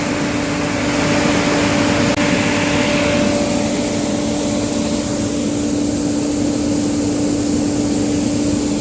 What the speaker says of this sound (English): We're just unloading the dryer for hopefully the last time.